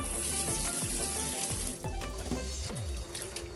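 Water poured over vegetables being readied for pickling, heard as a close, continuous splashing gush with watery sloshing that eases slightly toward the end, no voices.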